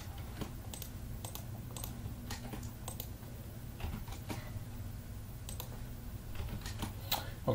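Someone types on a computer keyboard during a PHP and XAMPP setup, quick soft key clicks in short uneven bursts over a low steady hum, close by and quiet, with no speech.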